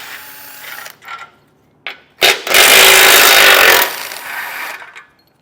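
A 15mm socket ratchets bolts loose from a Jeep while a Curt base plate kit is fitted, giving a few short clicks and rubs, then a loud, sustained grinding burst in the middle before fading to quieter scraping, with no talking.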